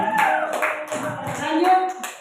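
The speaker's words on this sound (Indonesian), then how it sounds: "tepuk tangan buat Riri." Students in an open-class lesson clap for a classmate named Riri, a brief burst of close, quick handclaps mixed with voices talking.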